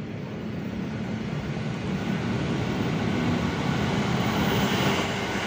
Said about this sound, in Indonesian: Oke, ini lagi nih kereta jarak jauh.